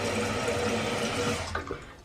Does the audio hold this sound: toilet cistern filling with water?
yes